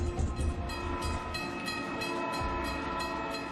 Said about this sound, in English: Emergency fuel gets passenger trains rolling again.